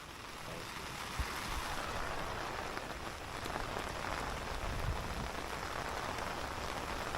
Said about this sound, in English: Let me show y'all just how rainy it is right now.